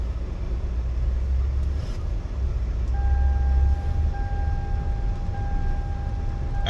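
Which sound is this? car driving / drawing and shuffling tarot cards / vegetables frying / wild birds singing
car driving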